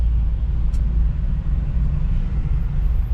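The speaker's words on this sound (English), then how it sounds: "this crazy traffic" Heavy city road traffic in Nairobi rumbles steadily, a dense low drone of engines and passing vehicles without pause, with no talk over it.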